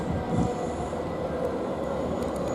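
Train at Stratford station, a steady loud rumble of rolling stock with faint wheel squeal and a high whine, with no talk.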